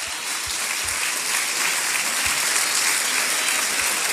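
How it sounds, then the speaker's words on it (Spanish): An audience at a business opportunity meeting in Guadalajara claps loudly in steady, dense applause that fills the whole stretch without a break. "Un aplauso fuerte a los asociados."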